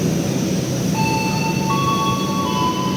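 The Matarmaja economy train rolls into platform 3 at a station: a loud, steady rumble of rail wheels with high screeching tones of brakes or wheels sliding in.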